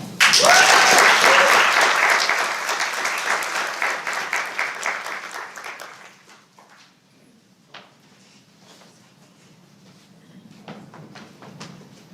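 Applause breaks out at a state education board meeting, a loud wash of many clapping hands that fades out after about six seconds, leaving a quiet room with a few scattered claps and faint shuffling.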